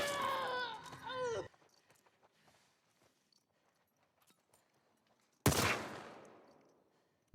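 Enemy gunfire in The Last of Us Part II, a harsh burst erupting late after a quiet stretch, loud and close with a decaying tail. A voice and musical tones come before it.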